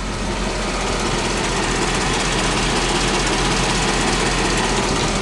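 A 1998 GMC forestry truck engine idles steadily and close by, a smooth, even drone with a faint fast knock-like pulse running through it and no other sounds.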